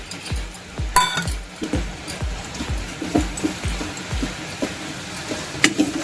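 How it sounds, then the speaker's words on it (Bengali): Tomato and spices sautéing in a pan for a potol and shrimp curry give a soft sizzle, punctuated by regular low thumps of stirring strokes, close and fairly loud. "টমেটোটাও একটু ভালো করে কষিয়ে নেবো"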